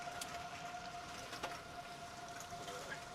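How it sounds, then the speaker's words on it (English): Tornado sirens wail steadily in the distance during a violent Texas line of storms, a faint sustained tone beneath heavy wind and rain noise. "The tornado sirens are still going off too."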